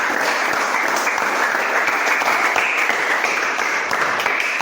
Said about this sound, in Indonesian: mari kita kasih tepuk tangan untuk pekerjaan kita hari ini